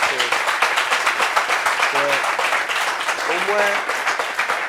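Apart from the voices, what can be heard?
studio audience applause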